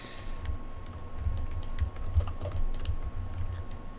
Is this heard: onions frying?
no